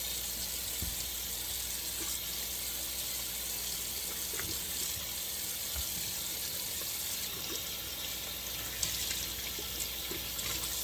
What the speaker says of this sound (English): And I'm going to clean out my sink.